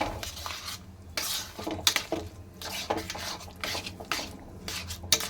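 A spoon scrapes and stirs a semolina and milk mixture for puli pitha in a cooking pot, giving repeated rhythmic strokes with metallic scraping, close up, with no talking.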